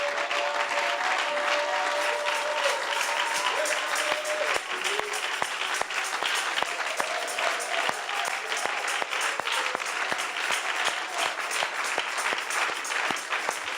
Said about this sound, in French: Lèvons-nous d'abord, acclamons le Seigneur.